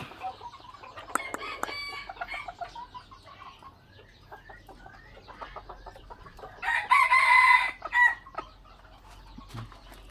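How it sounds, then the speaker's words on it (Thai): Several young gamecocks crow in short bursts over background farmyard clucking, with one loud crow close by near the end. "ส่วนมากจะเป็นไก่หนุ่มนะครับ"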